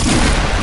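A pistol fires in Fortnite gameplay as a loud, dense, broadband boom that fills the short moment, close and punchy, with no speech over it.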